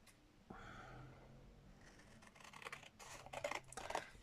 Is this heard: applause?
no